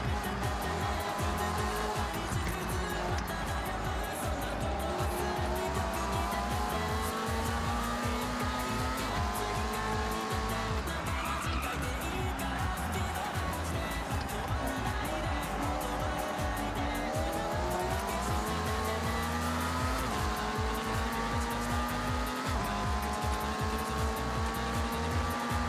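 Race cars in a driving video game on rally tires roar with high revving engines and gear shifts, tires squealing and skidding through corners, loud and continuous with a dense mix of engine whine and screech throughout.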